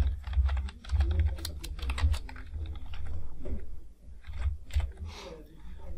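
Password being entered on a computer keyboard: a steady run of quick, close key clicks with short pauses, continuing for several seconds over a low background hum.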